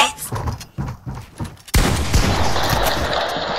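Video game gunfire, a rapid burst of sharp shots followed by a dense loud barrage of continuous firing, with a player's voice faintly underneath.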